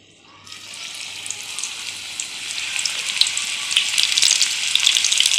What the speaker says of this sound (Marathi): आता आपलं तेल चांगलं गरम झालंय. आपण त्याच्यामध्ये भजी घालून घेऊया.